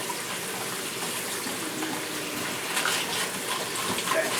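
Tap water runs steadily while something is rinsed out, a continuous broadband wash of splashing and gushing that stays fairly loud and even throughout.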